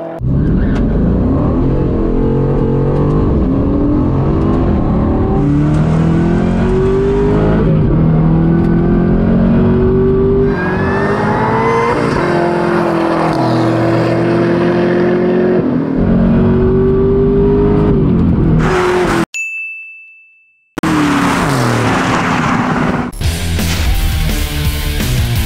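A supercharged Corvette Z06 and an Aston Martin Vantage launch from a hand-drop start in a drag race. Loud engines wail as they climb through several gear changes, cut off abruptly near the end, then roar back up.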